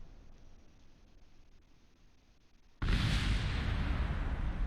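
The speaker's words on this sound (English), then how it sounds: "Many explosions." A sudden loud, broadband blast in Kerbal Space Program cuts in after a quiet stretch and settles into a sustained roaring rumble, as from rocket explosions.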